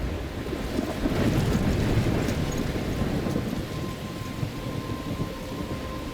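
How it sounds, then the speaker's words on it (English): Thunderstorm with rain in the video game Life is Strange: a rolling thunder rumble swells early over dense, steady rainfall and wind, then eases back to a constant downpour. "I'm trapped in a storm?"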